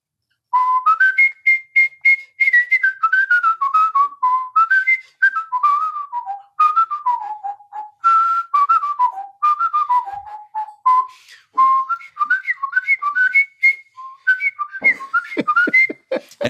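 Someone whistles a swing tune, a bright, clear melody of quick repeated phrases that carries on alone for about sixteen seconds without talk.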